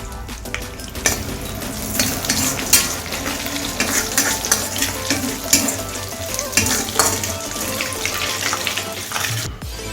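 Dried chillies, bay leaves and panch phoron crackle and sizzle loudly in hot oil in a pan, a dense continuous frying hiss with sharp pops and occasional utensil clinks, no speech.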